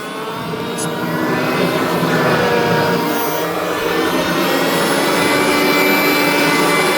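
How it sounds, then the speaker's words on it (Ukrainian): A loud, steady jet-like roar from the engine of a DniproM-built model Shahed drone taking off, holding strong and continuous throughout with a rushing, whining tone. "Нічого собі воно точно як шахід злітає."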